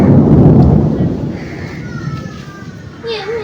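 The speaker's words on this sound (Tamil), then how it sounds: "இடி இடிக்கிற சவுண்டு கேட்குதா ஃப்ரெண்ட்ஸ்?" Loud low rumbling thunder rolls through a rainstorm, booming at the start and fading into a steady wash of rain, with faint children's voices and a high whistling tone near the end.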